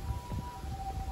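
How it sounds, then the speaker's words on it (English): A siren wails faintly in the background, a thin sustained tone under low rumbling street noise over a brief moment. "You can hear a siren in the background."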